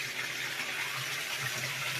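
Water pumped through an inexpensive homemade koi pond filtration system with a bulb filter and solid matter filter, a steady close rushing gush that stays constant throughout with no talking.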